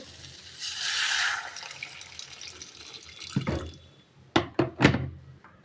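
Water splashes into a cooking pot in a short close pour, then a few hollow thunks and knocks of the pot follow in quick succession.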